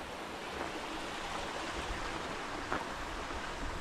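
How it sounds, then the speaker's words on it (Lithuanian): Steady rushing water from a small mountain waterfall stream spilling over rocks, a continuous broadband wash close by with no other sounds. "Čia priėjom tokį kriokliuką."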